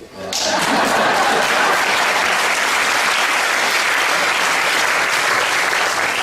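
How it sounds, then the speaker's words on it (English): An audience bursts into applause during a speech, swelling quickly after a brief quiet moment into a thick, sustained wash of clapping that holds at full strength throughout. "Now I wrote in here, pause for applause."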